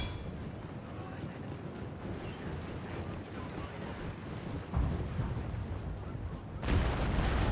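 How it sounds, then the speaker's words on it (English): Cannons firing during a battle in Total War: Shogun 2, Fall of the Samurai, with a steady low rumble of battlefield noise and two heavy booms, the second louder and sharper near the end. "we'll get the cannons to fire at this blob here"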